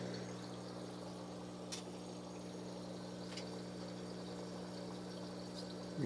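A Creekstone 264 GPH submersible pond pump runs, refilling a tank, a faint steady low hum with soft water trickle, a couple of faint clicks, and a bump at the very end.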